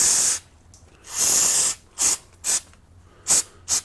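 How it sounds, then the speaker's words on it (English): Aerosol spray blasts across the outside of a Mercury two-stroke outboard carburetor to clear debris: one long hiss, then a string of short, sharp bursts, loud and close with no talking. "I like to just take some spray and just kind of get some of that debris off the outside"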